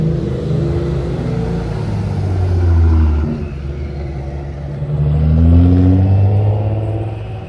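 A V8 sports car passes on a street at Deauville with a deep, loud engine rumble that swells in two revving surges, heard fairly close in an outdoor setting.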